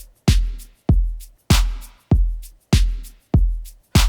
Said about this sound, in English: specifically this shaker loop that I've been using quite a bit